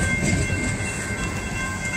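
A CATS light rail train rolls past in Charlotte, North Carolina, giving a steady, close rumble of wheels on track with faint clicking and no voices.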